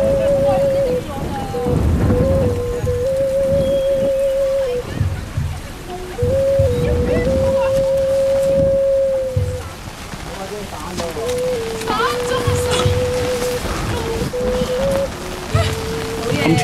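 Heavy rain pours steadily and loudly on a steep hillside slope at Lei Yue Mun, Hong Kong, with a continuous hiss and patter running throughout alongside a faint tonal whine.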